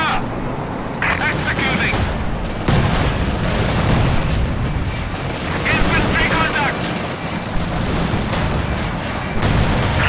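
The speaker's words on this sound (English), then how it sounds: "your tank is shooting at everything" Tank cannon fire in Company of Heroes 2 on the Eindhoven Country map: repeated heavy booms and gunfire in a dense, continuous battle din, with a player talking over it.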